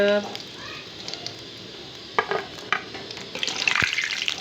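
Potato and onion pakoras frying in hot oil, a soft steady sizzle with a few clinks and stirring sounds, getting louder and busier toward the end.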